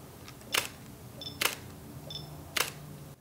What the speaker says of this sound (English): the shutter sound on the S1R is fantastic